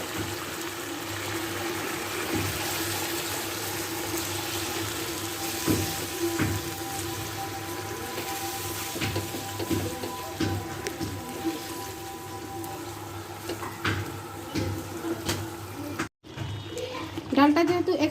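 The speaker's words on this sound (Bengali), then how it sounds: "এখন আগে থেকে সেদ্ধ করে রাখা ডালটা দিয়ে দিব" Pre-boiled mung dal is poured into a pan of rohu fish that has been cooking down, making a steady wet splashing sizzle that runs for the whole stretch at moderate level.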